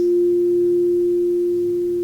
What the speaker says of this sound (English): Allowing the vibration and the tones